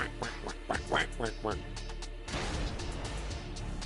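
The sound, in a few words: duck quacking sound effect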